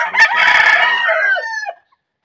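Rooster of a gamefowl bloodline crowing once, a loud close call lasting under two seconds that rises and trails off, followed by silence.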